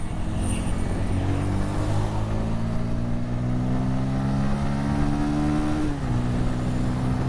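A 2026 Bajaj Pulsar N160 single-seat motorcycle engine runs steadily and climbs slowly in pitch as it accelerates, with a short dip near the end, loud and continuous with no speech.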